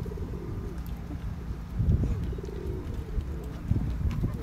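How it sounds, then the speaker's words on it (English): Pigeons coo in low, soft, repeated bursts while feeding outdoors, close by against steady background noise with a few brief louder swells. "pigeons are getting it"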